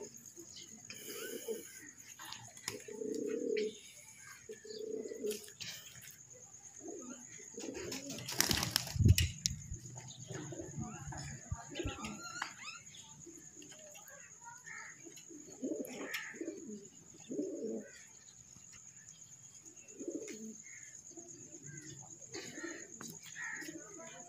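Soft, repeated low cooing from pigeons comes in short bursts, with a brief flutter of wings midway and a steady faint hum behind.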